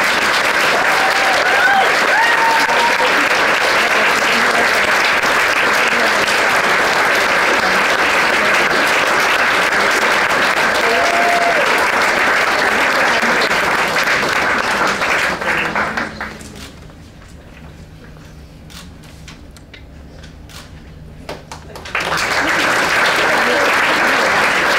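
An audience at an awards ceremony claps in sustained, dense applause, briefly dying down to near quiet before swelling again, with a voice speaking over it at times.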